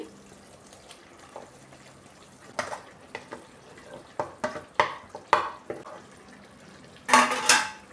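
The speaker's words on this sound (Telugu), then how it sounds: "ఇప్పుడు మనం మ్యాష్ చేసుకున్న బంగాళాదుంపని ఇందులో వేసేసుకోవాలి" A spoon stirs and scrapes through mashed potato and softened onions in a pan for masala dosa filling, with a series of quiet clinks and scrapes building to a louder burst of scraping near the end.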